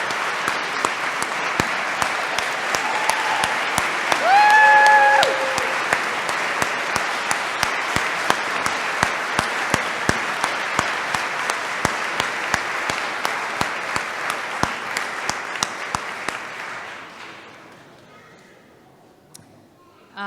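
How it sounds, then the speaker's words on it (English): A large audience gives graduates at a pinning ceremony a long, steady round of applause. A brief cheer rises early on, and the clapping tapers off and fades near the end. "Let's have a big round of applause for our graduates."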